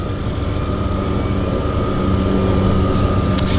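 A floatplane idles near the water at Vancouver Downtown Harbour Airport, its propeller engine giving a loud, steady drone with an unwavering hum throughout, close by and alone.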